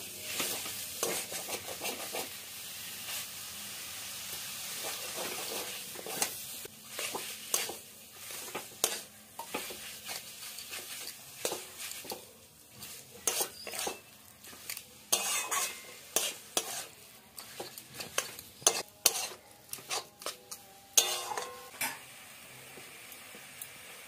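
Minced chicken stirred in a pan with a spoon, repeated scraping and clinking strokes over a soft sizzle, irregular and close.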